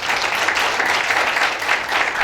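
Staff audience applauding their partners at a company annual meeting and party, brief continuous dense clapping throughout.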